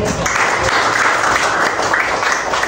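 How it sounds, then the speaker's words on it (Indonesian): A crowd claps steadily and loudly, a dense, continuous wash of applause lasting a few seconds. "Saya kasih tepuk tangan."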